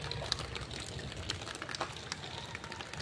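Floodwater from heavy rain pours into a house with a faint, continuous gushing and splashing flow, steady and close, with no talk over it.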